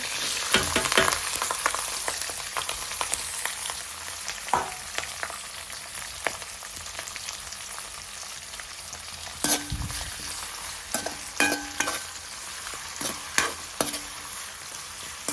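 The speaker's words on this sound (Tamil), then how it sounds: "ஓரளவாக நல்லா வெங்காயம் எல்லாம் வதங்கி வந்துட்டுது" Onions sizzle steadily in hot oil for kottu roti while a spoon scrapes and stirs the pan, with occasional sharper clinks and crackles.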